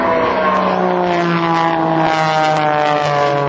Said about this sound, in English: Now points the airplane toward the ground.